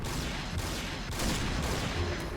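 Rapid automatic gunfire in the shooter game Point Blank, a dense, continuous rattle of shots that swells briefly midway, loud and close with no talk.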